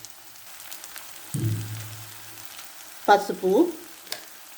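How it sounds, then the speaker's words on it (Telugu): Fenugreek leaves and onion frying in a pan: a soft low sizzle rises, then a louder stirring scrape and crackle near the end, close and otherwise quiet, with a single brief spoken word. "ఆనియన్తో పాటు మెంతి కూరను కూడా మంచిగా ఫ్రై అవ్వనిద్దాం"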